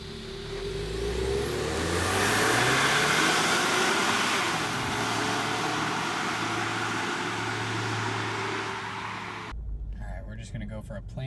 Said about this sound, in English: Alright, we're just going to go for a plain launch